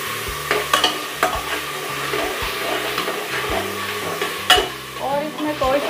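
Salt being stirred and fried into lauki pulao in a pan, a continuous close sizzle with repeated scraping strokes of the spoon, no talking over it.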